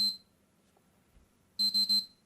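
A PlayStation 3 Slim that has failed to start gives one electronic beep, then after a pause three quick identical beeps in a row, clear and close in an otherwise quiet room.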